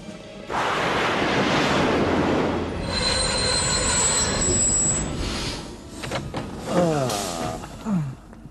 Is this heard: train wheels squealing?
yes